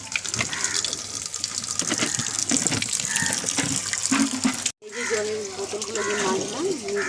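Tap water runs steadily while water bottles are rinsed, a close continuous gush and splash with a brief cut midway, accompanied by background animal and household noise.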